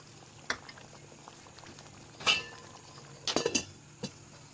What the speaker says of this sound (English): So I will allow it to simmer for like